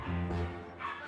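A dog at a veterinary check at an animal expo lets out a short whimpering yelp, close and brief, over muffled hall ambience.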